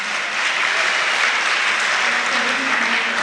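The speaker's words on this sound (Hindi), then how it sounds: "जोरदार ताली बजा के अनुमोदना करें आज।" Loud, sustained applause from a large audience at a religious gathering for a Jain acharya, a thick uniform roar of clapping that fills the whole stretch without gaps or fading.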